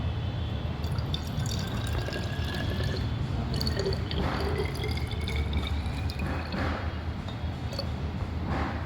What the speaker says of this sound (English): So first in this glass mama is putting water